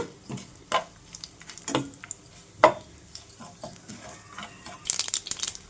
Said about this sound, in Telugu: చూడండి చక్కగా చిట్టుపట్లాడుతున్నాయి కదా